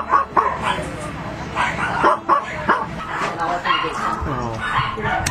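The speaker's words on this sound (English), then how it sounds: "It's just 600 dogs is a little hard to visualize." Many dogs at a Texas puppy mill raid bark, yip and whimper in overlapping bursts close by, with people talking throughout.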